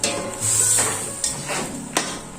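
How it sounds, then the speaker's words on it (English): Afang soup bubbling in a pot with a continuous hiss, broken by a few soft clinks. "You can see boiling."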